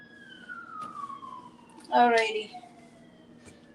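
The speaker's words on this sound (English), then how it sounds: "I have closed the window, but I still hear the ambulance" Ambulance siren outside a closed window, a faint, falling wail behind a brief spoken word.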